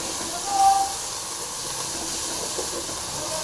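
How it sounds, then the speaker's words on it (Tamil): Onions with ginger and garlic fry in a pan with a loud, steady sizzling hiss that holds evenly throughout. "நல்லா வெங்காயம் வந்து ஃப்ரையாக இருக்குது"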